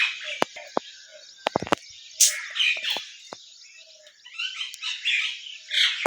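Small birds perched among bushes and plants give a busy stream of bright chirps and tweets, some sharp isolated calls and clustered trills, fairly close and lively, with a few croak-like notes mixed in.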